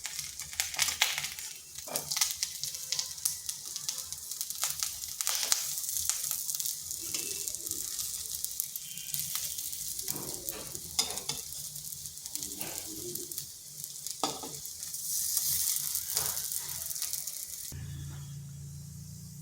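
Bitter gourd (karela) frying in a pan, a steady broadband sizzle with scattered scraping and stirring knocks running throughout, close and fairly loud, with no talking.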